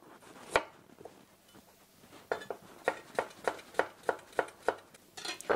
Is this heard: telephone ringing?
no